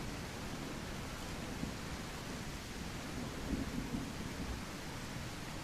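Steady rain and rolling thunder fill a video game scene with Deinosuchus hunting, a continuous broadband hiss with low rumbles swelling midway, fairly faint and without voices.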